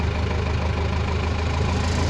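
A Caterpillar 416B backhoe loader's diesel engine runs steadily at a constant idle, close and continuous with a low rumble and no voices over it.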